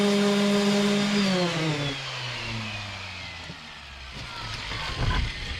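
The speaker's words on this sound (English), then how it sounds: "Those of you with random orbital sanders will know exactly what's happening." A random orbital sander with a worn, failing pad whines close by and winds down in pitch over a few seconds, then rattles and scuffs loudly near the end, with no talking.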